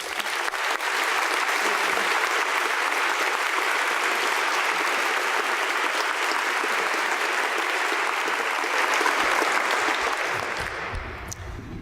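Sustained, dense applause from an audience welcoming a speaker at the Pritzker School of Medicine White Coat Ceremony, a steady even roar of many clapping hands that holds for about ten seconds and then fades.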